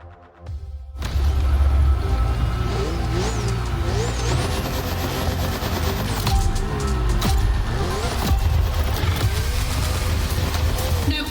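A Ferrari racing car engine in the video game The Crew Motorfest roars loudly and continuously on a circuit, its pitch rising and falling as it revs, with a low rumble underneath.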